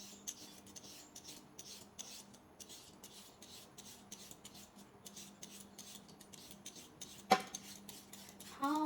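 Carrots being cut for a salad: a series of soft, regular rasping knife strokes on a board, fairly quiet and close, ending with a couple of louder knocks and clinks.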